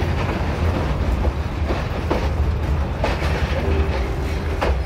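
A metre gauge train runs on rails through Dudhwa National Park, a loud continuous rumble with rhythmic clickety-clack wheel beats and occasional brief squeals, heard up close without talk.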